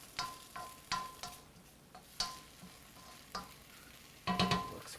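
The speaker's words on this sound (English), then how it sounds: "Give it a quick stir." A spoon stirs sautéed spinach with turkey bacon in a pan. Quiet, with soft scrapes and taps of the utensil at an uneven rhythm over a faint background hiss, and a busier scrape near the end.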